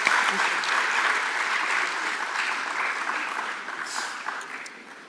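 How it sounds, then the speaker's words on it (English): Audience applause at the Dalal Street Lit Fest welcomes Ravi Subramanian and Meghdoot Karnik onto the stage, steady clapping that tapers off gradually. "Could we have a round of applause, please?"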